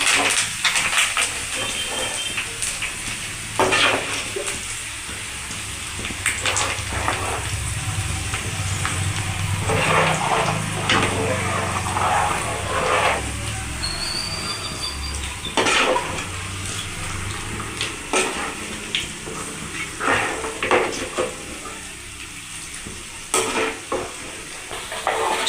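Spices and curry leaves tempering in hot oil in a pan for amla pickle, a steady close sizzle broken by spatula scrapes and metallic clinks of utensils against the pan.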